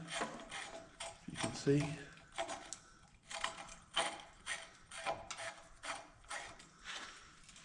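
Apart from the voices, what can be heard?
undoing a nut on a Fox Podium fork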